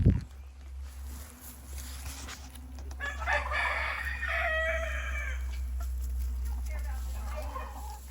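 An older rooster at a farm animal sanctuary crows once in a drawn-out call, fairly close, over steady low outdoor hum, with a voice briefly nearby.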